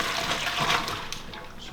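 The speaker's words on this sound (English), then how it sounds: "now what we need to do is get a colander and empty these out into the colander" Soaked potato slices and their water tipped into a colander, a brief close splashing pour with a gush that lasts under two seconds.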